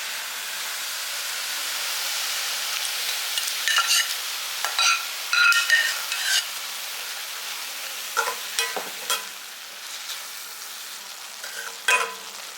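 Spinach greens are stirred into cooked dal in a pot under a soft background hiss, with scattered spoon clinks and scrapes coming in short bursts. Nobody speaks.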